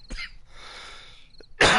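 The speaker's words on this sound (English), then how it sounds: "Sorry about the dry cough" A man gives a couple of short, dry coughs close to the mic during a 7 Days to Die session on PS4, with a sharper, louder burst of noise right at the end.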